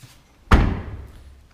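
The trunk lid of a white 2016 Chevy Malibu shuts with a single solid thud, sharp at the start and then fading quickly, heard alone in an otherwise quiet setting.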